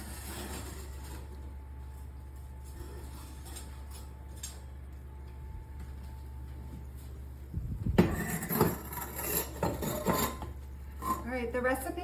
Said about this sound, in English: we're going to take the lasagna out of the oven